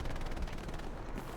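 Dense, continuous automatic gunfire in the World War II shooter Hell Let Loose, loud rapid bursts blending together at close range, with no speech.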